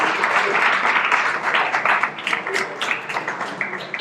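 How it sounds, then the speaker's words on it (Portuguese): A studio audience applauds on a political talk programme, clapping that swells and thins in uneven bursts over about four seconds. "Aplausos para ela também."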